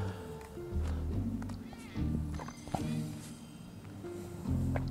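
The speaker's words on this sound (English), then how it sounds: "look at all those cats!" Several cats meowing in the video game Final Fantasy 7 Remake, with repeated mews over a steady low background hum and game ambience.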